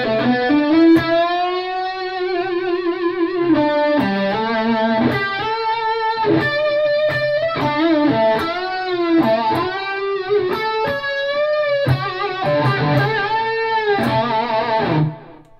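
Electric guitar lead run through an HX Stomp with extra delay switched in, sustained distorted notes and bends ringing continuously with audible repeats trailing behind each phrase, loud and alone.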